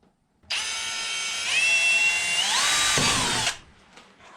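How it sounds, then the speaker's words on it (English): Close, loud whir of a power drill boring a 1/4-inch hole in a Kubota BX tractor cab, pitch shifting as it cuts, running about three seconds before stopping. "I'm going to drill my 1/4 inch hole"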